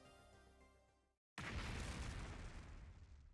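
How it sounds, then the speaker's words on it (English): An explosion goes off inside a room in the video game The Hundred Line Last Defense Academy: after music and a brief silence, a sudden broad blast bursts out and rolls on as a sustained rumbling roar. "explosion suddenly echoed across the room"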